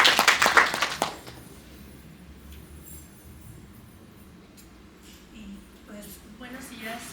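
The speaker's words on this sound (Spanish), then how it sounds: "les pido un aplauso para escuchar" Audience applause at a sociology book presentation, a loud burst of many hands clapping that fades out within about a second, followed by quiet room tone and light movement.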